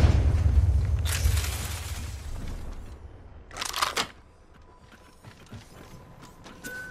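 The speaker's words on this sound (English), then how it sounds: "Found an explosive hold here. Cracking open this hold." Opening an explosive hold in a video game gives a burst of mechanical creaking and low rumble, followed a few seconds later by a short, bright clattering crack, then a quieter settling.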